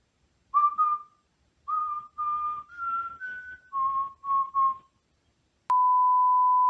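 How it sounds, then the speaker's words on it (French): A series of short whistled tones in a simple stepwise melody, clean and electronic-sounding, ending with one long steady beep. "Sifflement incompréhensible."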